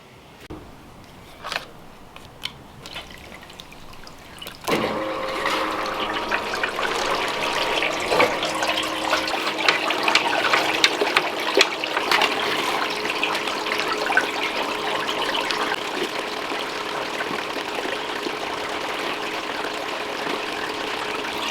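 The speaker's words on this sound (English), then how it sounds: "My pump is an 1100 gallon an hour unit running an 18 amp hour marine battery." An 1100 gallon-per-hour pump powered by a marine battery pushes water through a gold sluice on a high-banking dig, starting after a few clicks into a steady, close rushing flow.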